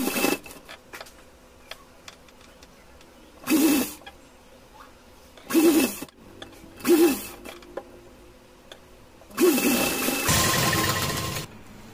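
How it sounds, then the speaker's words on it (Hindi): Sewing machine running in four short bursts while stitching folded cord onto a ruffled doll dress, each run a close mechanical whir separated by quiet pauses, the last burst longer. "और मुड़ने के बाद ये सिलाई लगाएंगे।"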